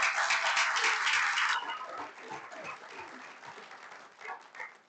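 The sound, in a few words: applause at a city council meeting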